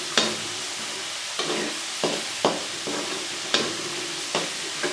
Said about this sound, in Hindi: अभी हम इसको थोड़ी देर और इस तरह हिलाते रहेंगे, फिर हम बाहर निकाल लेते हैं।